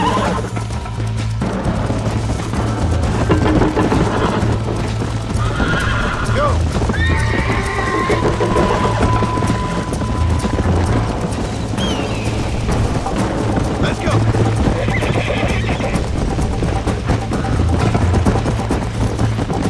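In Red Dead Redemption, a horse gallops with continuous hoof clatter and occasional whinnies and snorts, heard through a busy game mix with a voice talking over it.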